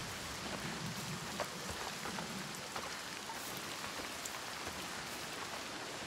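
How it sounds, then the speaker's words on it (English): Steady rain falling as an even, fairly quiet broadband hiss with scattered drip ticks, unchanging throughout and with no voices. "The rain never stops."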